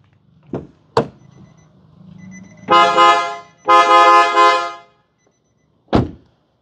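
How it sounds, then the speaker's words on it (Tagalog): A PIAA horn on a Nissan Navara Calibre honks twice in sustained blasts, preceded by a couple of sharp clicks and followed by a single thud, with no talking. "First, we replace the horn to PIAA base horn and sports"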